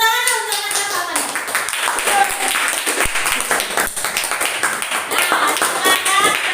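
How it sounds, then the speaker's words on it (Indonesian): Students clap together in a classroom during a teacher training practice lesson, a dense steady patter of hands lasting several seconds, with voices chattering underneath. "Tepuk tangan untuk apa nih?"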